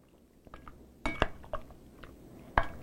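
Duck, shrimp and sliced onions being tossed with marinade in a large bowl, heard as a few sharp clinks and scrapes of a utensil against the bowl with soft wet sounds between, close and quiet.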